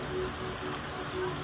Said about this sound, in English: Imagine the rain touching on your skin.